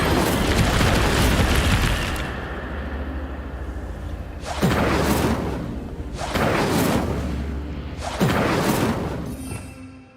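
An Incendio fire spell in Hogwarts Legacy bursts out as a loud fiery whoosh and roar, followed by two more sharp surging blasts of flame that trail off, with no talking.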